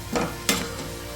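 Indian gooseberries (amla) frying slowly over low heat in a pan, a soft continuous sizzle with two quick stirring scrapes close by.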